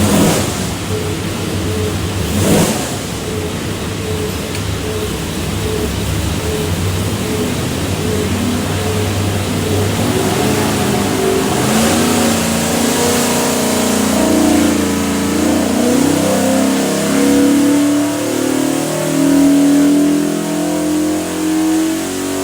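A 347 cubic-inch Ford V8 with Holley Sniper 2 EFI, built for a 1993 Mustang, roars loudly on an engine dyno, its pitch climbing steadily through a long full-throttle pull.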